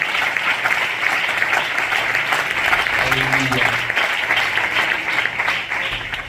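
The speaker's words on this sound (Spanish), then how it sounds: "¿Qué te parece si das un aplauso a la palabra del Señor?" Congregation in a church applauding the word of the Lord, a dense continuous clapping that fills the whole stretch, with a brief voice calling out over it midway.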